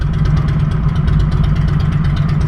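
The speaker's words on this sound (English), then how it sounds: "This motorcycle to the left" A motorcycle engine idles nearby with a steady, low, throbbing rumble and a rapid, even pulse, with no voices.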